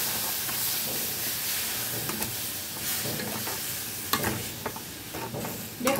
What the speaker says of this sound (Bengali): ছোট কাপের 1 কাপের মতো আমি জল অ্যাড করে দিলাম